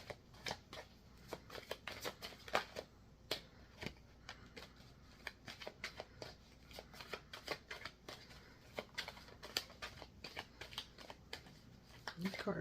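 Tarot cards being shuffled, a rapid run of crisp riffling snaps and flicks repeating in bursts throughout, close and fairly quiet.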